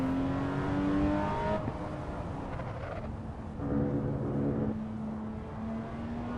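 Race car engine in a racing simulator game revving high toward 9,000 RPM, with rising pitch sweeps and abrupt drops at downshifts, steady and moderately loud with no talk.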